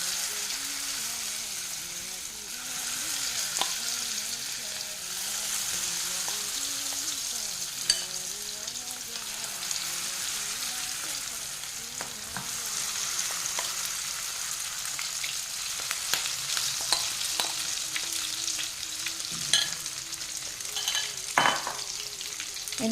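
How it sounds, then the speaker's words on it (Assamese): Chicken pieces frying in hot oil for chilli chicken, a continuous crackling sizzle with occasional sharper pops and some stirring, heard up close with no one speaking. "এনেকুৱাকৈ মই ধুনীয়াকৈ এইখিনিও ভাজি ল'ম।"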